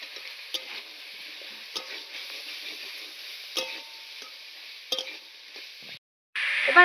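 Spring onions sizzle steadily in a pan while peas go in, with sharp clicks of a utensil stirring through; a brief silence near the end gives way to a louder, fuller sizzle.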